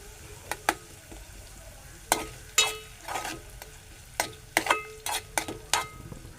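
A pinch of asafoetida stirred into hot oil for a Marathi padwal (snake gourd) dry vegetable dish, with a soft frying hiss underneath and a series of sharp scraping and stirring clatters at close range, no voices.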